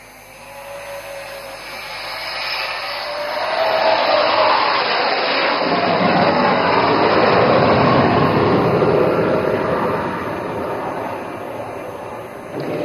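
A fighter jet makes an overshoot pass at an air force air show, a broad roaring whoosh that swells over several seconds, peaks loudly as it passes, then slowly fades, heard from the ground with no voices.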